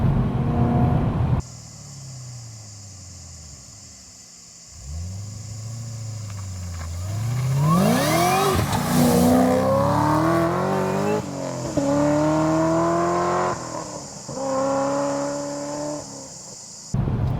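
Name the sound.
700+ whp Dodge Charger GTS accelerating hard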